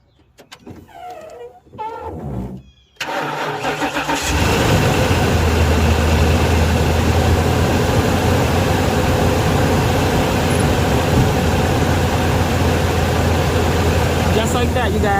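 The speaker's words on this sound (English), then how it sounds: "Let's try to start it. You see the lights going. We're gonna try to start it." After a few seconds of talk and brief clicks, a Ford high-top van engine cranks on a jump booster pack and catches, settling into a loud, steady low idle that continues to the end.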